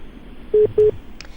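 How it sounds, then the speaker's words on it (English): Two short telephone dialing tones in quick succession, clear and electronic, followed by a faint click on the line while trying to re-establish a phone connection. "we're going to try and re-establish that phone line with Lavina"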